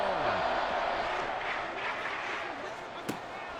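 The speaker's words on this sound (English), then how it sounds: "This crowd turning up the decibel level." Stadium crowd roaring during a Madden 24 football video game on third and long, a dense sustained wash of crowd noise with a sharp thud near the end.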